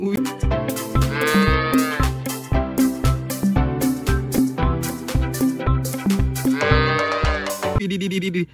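Two drawn-out moos sound over a bouncy, steady rhythmic beat, like a toy or song playing a cow call.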